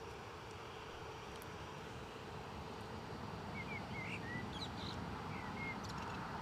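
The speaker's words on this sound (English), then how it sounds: "EasyJet. 320 Neo inbound from Bristol." An easyJet Airbus A320neo inbound from Bristol to Newcastle makes a steady, distant jet rumble that slowly swells, with faint bird chirps scattered over it.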